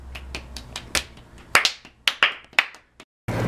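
A few people clap at a birthday celebration: a short run of sharp, uneven claps with gaps between bursts, close and fairly loud, before a brief silence.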